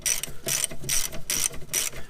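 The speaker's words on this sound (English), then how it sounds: "I prefer to use a 1/2-inch ratchet because it's got a little more gusto. Break that loose." Half-inch ratchet with a size 16 socket loosening brake caliper bracket bolts on a BMW E46, E36 or E30, five quick rhythmic bursts of close, crisp pawl clicking, no voices.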